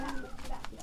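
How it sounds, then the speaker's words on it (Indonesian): A male pigeon in a courtship display coos in short soft pulses, close by, with a voice speaking over it. "Teman-teman pasti pengen merpati yang seperti kayak gini giringnya."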